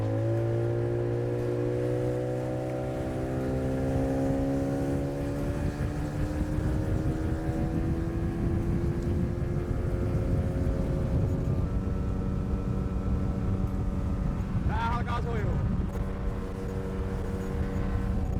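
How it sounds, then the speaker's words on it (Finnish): A boat motor runs steadily at close range, its droning hum shifting slowly in pitch, with a brief splashy surge partway through. "Meidän moottori on pysynyt käynnissä tähän asti"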